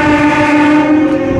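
A locomotive horn sounds from a train at Ongole station, a loud, sustained, harmonically rich blast that holds steady for the whole moment without a break.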